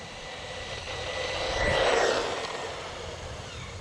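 A DeeRC 001E brushless RC truck driven fast outdoors makes a whirring, rushing noise that swells as it nears, peaks at close range, then fades away. No one speaks.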